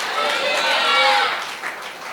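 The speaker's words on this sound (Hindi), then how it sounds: "अरे ताली तो बजाओ यार" Clapping from a church congregation at a youth gathering in Mumbai, a dense broad wash of many hands that swells and then eases off over about two seconds, with no clear talk on top.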